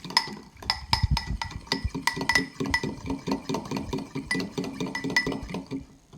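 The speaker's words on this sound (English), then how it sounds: "while continually whisking, add the hot mixture to your egg yolks" A whisk beats hot cream mixture into egg yolks in a bowl, giving a fast continual rhythm of clinking taps against the bowl, close and fairly clear, with no talking.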